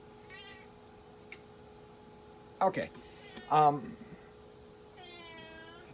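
A noisy cat meows twice in quick succession near the middle, loud and close, with a person speaking briefly before and after in a quiet workshop room.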